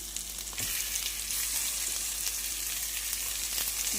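Chicken pieces fry in hot oil with ginger, a steady close sizzle with a sharp crackle near the start and no talk.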